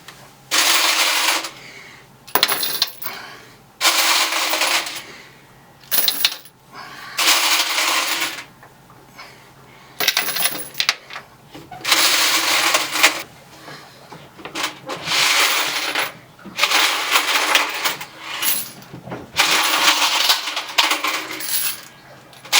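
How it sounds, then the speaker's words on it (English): Clean brass shell casings, just wet-tumbled, poured out in repeated bursts of bright metallic clinking and rattling, loud and close, each pour a few seconds long with short pauses between. "So here's my ammo, or here's my shell casings. Anyway, I'm just going to put them out here."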